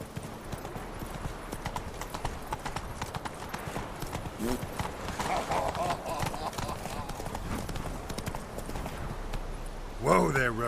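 Hooves of Roach, the horse in The Witcher 3, clop in a steady, moderately loud rhythm beneath continuous spoken dialogue, and a short whinny breaks through near the end.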